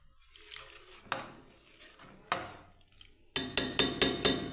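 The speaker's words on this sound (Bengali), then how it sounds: "এবার আমি ঢাকা দিয়ে দেবো বন্ধুরা" Metal lid set onto a pot of vermicelli payesh in a home kitchen, a few sharp clanks spaced apart followed by a quick run of ringing metallic taps, close and clear with no talk.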